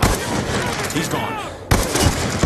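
Sniper rifle gunshots from the Black Ops 2 video game, with sharp loud reports at the start and again past the midpoint over dense game noise and a faint voice.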